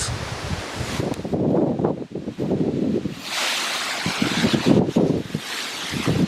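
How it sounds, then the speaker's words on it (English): Strong gusts of wind buffeting the microphone on an allotment plot, rising and falling in loud rushes with rustling in between. "It's a very windy day today on the plot"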